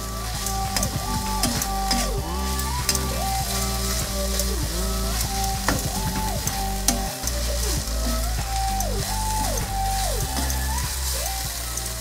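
Chicken momo filling with chopped green chillies frying in a pan, a steady loud sizzle throughout with stirring scrapes, under music with repeating melodic phrases.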